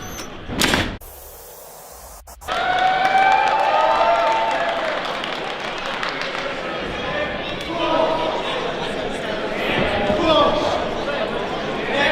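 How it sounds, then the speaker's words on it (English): Packed crowd of wrestling fans at Temple Live roaring and cheering steadily for about ten seconds after a brief burst of noise, with a dense, continuous wash of voices and some talk mixed in. "Take a look, packed crowd at Temple Live. Fans going crazy."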